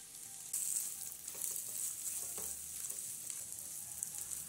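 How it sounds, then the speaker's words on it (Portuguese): Garlic frying in a pan before onion goes in, a quiet sizzle that starts abruptly and holds steady, with light clinks of a utensil and no voices. "Fritou um pouco o alho aqui, eu já vou acrescentar a cebola."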